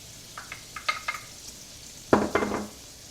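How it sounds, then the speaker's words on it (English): Two garlic cloves hit hot oil in a frying pan with a few soft taps, then burst into a short, bright sizzle near the end, close and fairly quiet. "you add your 2 cloves of garlic"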